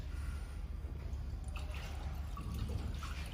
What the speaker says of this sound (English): So how can we add the water to water tank? Just like this.